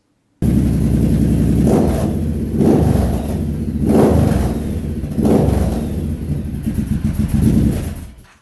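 A Triumph Bobber motorcycle fitted with old Norton exhaust pipes revs repeatedly. Four or five deep throaty rises in engine pitch sit over a steady rumbling idle, loud and close.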